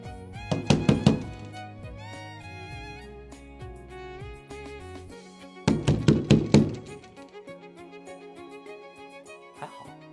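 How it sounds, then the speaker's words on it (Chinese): Two bursts of rapid knocking on a door, several firm raps each, separated by a pause, with a musical background playing underneath. "现在我来敲敲门试一试"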